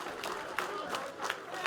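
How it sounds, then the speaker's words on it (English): An audience applauds at an outdoor United Workers Party political meeting in Lagoon, Dominica: a soft, steady wash of clapping from a distant crowd, with a few louder bursts. "put a round of applause for yourself"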